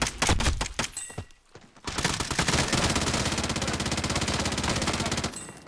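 Automatic gunfire from a Warzone battle royale match: a few quick shots lead into a sustained, rapid burst lasting several seconds, loud and close, with no talking.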